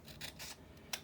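Scissors slice through thick double-stick tape in a few quick, soft snips close to the listener, with a brief rasp and a faint click at the end. The cuts are quiet.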